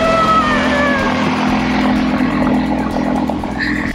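Outboard motor on a cruising sailboat's dinghy running steadily after repairs, a loud continuous engine drone with a faint higher whine near the end.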